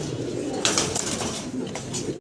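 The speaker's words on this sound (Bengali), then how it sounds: "এক জোড়া আর্চেঞ্জেল কবুতর" A pair of white Archangel pigeons coo softly and close by, low throaty calls repeating over a steady background murmur, with no speech.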